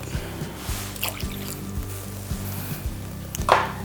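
Milk poured into a bowl for bread dough, a soft trickling dribble with light knocks and a brief sharper splash near the end, close and fairly quiet.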